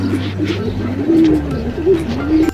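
Racing pigeons cooing at a loft, a close, steady run of low, rolling coos repeating over a faint background hum.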